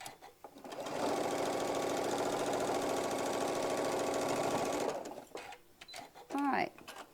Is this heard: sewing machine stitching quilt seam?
yes